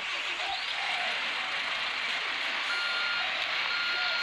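In the video game Construction Simulator 3, a small construction vehicle backs up with steady, repeating reversing beeps over a constant engine drone.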